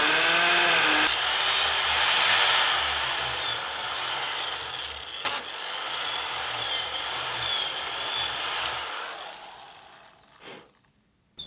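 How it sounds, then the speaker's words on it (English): A power drill whirs steadily into pallet wood for about ten seconds, loud and close, then winds down with a few short bursts near the end. "I'm going to try drilling a hole into this"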